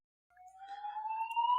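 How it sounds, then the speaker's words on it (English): An alarm sounds in the background, a faint rising electronic tone that fades in and climbs steadily in pitch, alone with no talk. "Excuse the alarm going off in the background."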